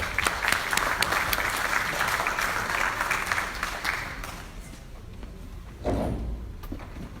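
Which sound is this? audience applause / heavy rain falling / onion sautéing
audience applause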